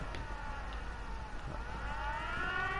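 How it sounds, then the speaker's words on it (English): A settlement siren in Fallout 4 wails with a steady rising tone over a low rumbling game backdrop, moderately loud and continuous. "I should have never created a siren here."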